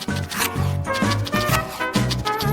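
Knife sawing back and forth through a loaf of bread in a kitchen, close and steady rasping strokes in a quick repeating rhythm.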